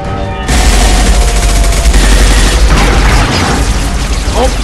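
Rapid sustained gunfire and booming blasts from a Mass Effect firefight roar loud and dense after a brief quieter start, with mechanical clatter and a shouted voice mixed into the chaotic battle.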